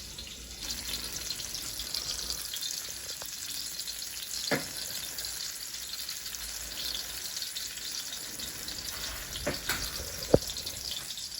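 Meat sautéing in a pan, a soft continuous sizzle with faint hiss, broken now and then by a few sharp clicks and taps of a utensil against the pan.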